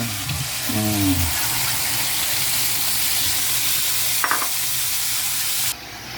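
Steady sizzling of chicken adobo frying in a pan, a continuous hiss with a brief stirring scrape partway through, close and fairly loud.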